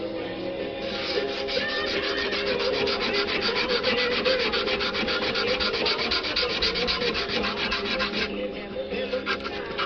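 Steady, close scraping of sandpaper worked by hand along the gasket line of a timing cover plate on a G-body Cutlass, a continuous rhythmic rubbing that runs for the whole clip.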